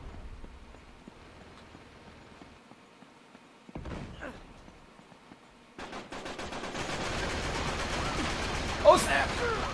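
A mounted turret in Uncharted 3 multiplayer free-for-all starts firing, a dense rapid stream of shots that begins abruptly partway through and grows louder, after quieter rattles and a short burst earlier, with a voice talking over it.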